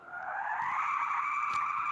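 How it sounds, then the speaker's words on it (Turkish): Car tires skid and squeal in a car crash simulator game, the driver braking repeatedly; a loud, sustained screech holds steady for about two seconds, with no talking. "Frene basa basa gitmeyi deneyeyim."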